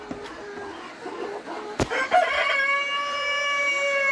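Brahma chickens cluck close by, then a rooster's loud, drawn-out crow rings out and fills the second half, with no talking.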